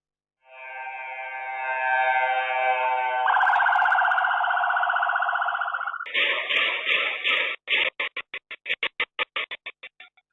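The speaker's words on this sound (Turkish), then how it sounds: "Sokak siren sesleriyle yankılandı." A loud electronic police siren in the street cycles through changing tones, steady wails giving way to rapid pulsing yelps that break into short bursts near the end.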